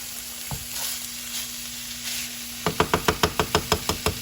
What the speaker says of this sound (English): So we'll just brown that down until it's all cooked through.